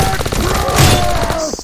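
Rapid stream of small popping shots from a Nerf gun in a video game, loud and continuous over a brief stretch with voices faintly underneath.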